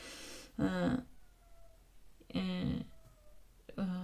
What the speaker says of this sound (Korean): 우리 고양이들이 울고 있는 소리입니다.